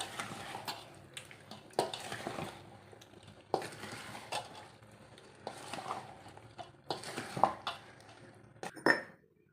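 Mixed mango pickle is spooned from a bowl into a jar, making repeated scraping and clinking of a spoon against the containers in irregular bursts, with soft wet shuffling between them, close and moderately loud with no talk.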